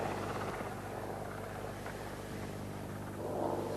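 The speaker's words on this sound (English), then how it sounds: "Slung beneath the Royal Navy's Sea Kings, the artillery was moved across broken, trackless country in minutes." A Royal Navy Sea King helicopter carrying slung artillery across rough, trackless country gives a steady, loud rotor and engine drone throughout, with no speech.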